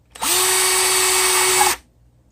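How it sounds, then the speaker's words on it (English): A power drill bores into a small plastic Amac box, whirring steadily for about a second and a half, loud and close, then stopping abruptly. "for these small enclosures, a drill works best, especially for the Amac boxes."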